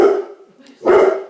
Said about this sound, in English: He is barking at people walking down the street